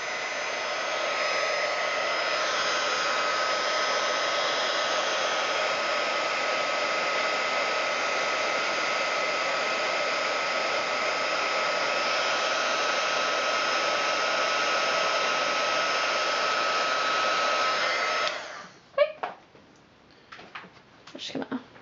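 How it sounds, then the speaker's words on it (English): A craft heat tool warming embossing powder on a handmade card gives a steady, loud, dryer-like whoosh that runs unbroken for about eighteen seconds, then cuts off, followed by a few soft clicks and handling knocks. "I'm going to grab my heat tool and I'm going to go ahead and heat that up."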